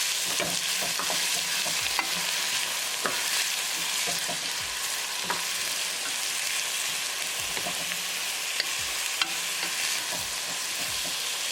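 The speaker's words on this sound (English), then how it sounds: "Cook onion until they are nicely brown. So keep it moving and keep cooking." Onions fry in vegetable oil with cumin seeds, a continuous close sizzle broken by frequent scraping strokes of a spoon stirring the pan, with small taps on the rim.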